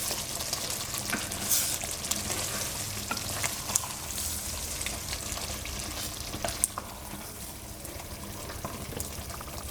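Mutton masala with yogurt sizzles steadily in a frying pan on a low flame while it is stirred, giving a dense, continuous close-up crackle with scattered small scraping and popping clicks.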